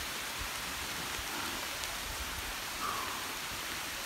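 Heavy rain pours down steadily after a thunderstorm, heard from shelter under a clump of bamboo, a dense, even hiss that holds at moderate loudness throughout.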